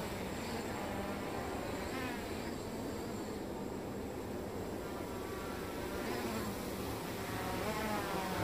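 A Bugs 3 quadcopter drone hovering in a backyard gives a steady insect-like buzzing whine of small propellers, moderately loud and continuous with slight pitch wobble.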